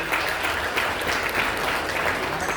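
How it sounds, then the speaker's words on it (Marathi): An audience claps at a Marathi film's first-look event, a dense, steady wash of applause from a crowd that lasts the whole moment. "रसिक सरांसाठी आपण जोरदार टाळ्या झाल्या पाहिजेत"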